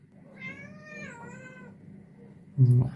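A cat gives one drawn-out, wavering meow lasting over a second, close and clear, followed by a brief louder bump or rustle at the end.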